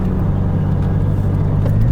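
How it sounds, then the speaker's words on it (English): A Ford Mustang engine revs hard as the driver floors it, a loud, steady low-pitched roar with strong rumbling harmonics holding for about two seconds, close up from inside the car. "That was me flooring it for a second."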